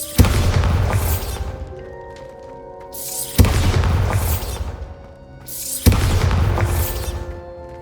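Three heavy explosions from the Bombarda spell boom out in the Hogwarts Legacy video game, evenly spaced about two and a half seconds apart, each a loud crash that fades into rumbling debris.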